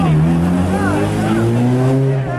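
A car engine loud and close on a dynamometer, holding a strong, steady droning roar with a slight rise in pitch through the pull, while voices may be heard beneath it.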